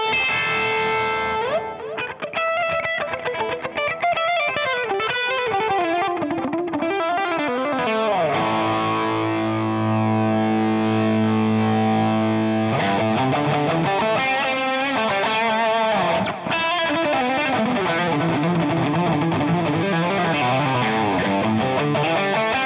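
An electric guitar played through a distortion pedal, with delay on it for a 1980s feel, rings out loud and sustained in held chords and picked notes, with no voices.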